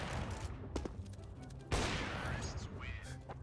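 Gunfire in the CS:GO video game, with sharp shots and a heavier burst near the middle over a busy game bed, while people talk intermittently throughout.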